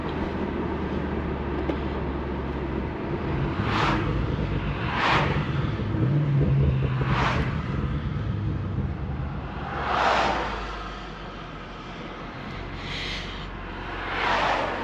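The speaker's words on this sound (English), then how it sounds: "So let's go ahead and see what these Burbles sound like." A BMW F90 M5 driven in Sport Plus mode, with a steady low engine drone under road noise and several distinct exhaust burbles and pops spaced across the drive, close and fairly loud.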